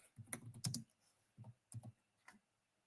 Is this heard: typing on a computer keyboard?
yes